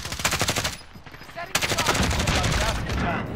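Machine gun fire in Call of Duty: Modern Warfare, loud close bursts of rapid automatic shots, a brief pause, then a longer sustained stream of fire.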